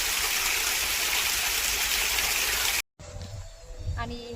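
Water rushing steadily from a pressurised pipe on a farm for cows to drink, a loud continuous gush that cuts off abruptly, followed by quieter outdoor ambience.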